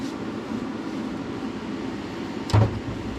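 A 1965 Ford F100 engine idles steadily just after its first start in 11 years, a constant low rumble with one brief louder rev near the end, no voices.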